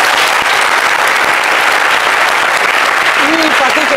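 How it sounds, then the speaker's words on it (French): A loud burst of audience applause at a talk show fills the room, continuous and close, with voices talking and calling out beneath the clapping toward the end. "Ça s'applaudit."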